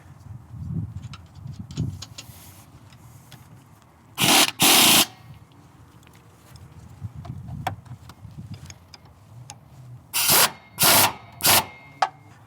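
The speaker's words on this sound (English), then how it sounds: "now that our bolts have been tightened using the impact wrench" An impact wrench tightens the shock absorber bolts on a Sprinter 3500 Class C motorhome, heard as two short loud rattling bursts and then three more, set against quieter handling noise.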